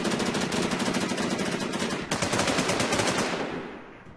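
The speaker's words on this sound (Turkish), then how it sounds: "Bizim arkadan da mı sıkıyorlar?" Rapid automatic gunfire in the RigorZ video game, loud, steady machine-gun bursts rattling continuously for about four seconds before trailing off, with no talking.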